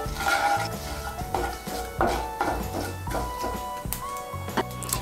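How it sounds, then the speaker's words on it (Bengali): Dried red chillies and whole cumin seeds are stirred as they temper in a pan, with repeated close scraping and clanking of a spatula against metal over a faint sizzle, in irregular bursts. "শুকনো লঙ্কা আর গোটা জিরে ফোড়ন দেব। দিয়ে একটু নাড়াচাড়া করে নিয়ে"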